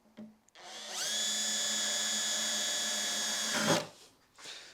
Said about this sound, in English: So guys, we'll just drill these for some rivets.